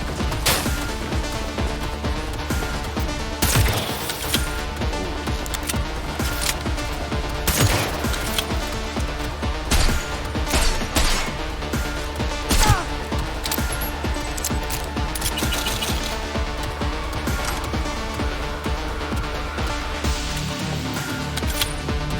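Bursts of rapid turret gunfire rattle through a Cyberpunk 2077 firefight, loud repeated volleys with sharp individual shots and impacts, layered with game music and ambience and no talk.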